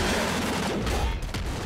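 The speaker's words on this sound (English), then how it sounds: "these are definitely plasma cannon shots" Rapid bursts of plasma cannon fire from the video game Nuclear Throne, a dense, loud, continuous barrage of blasts with no pauses across the whole stretch.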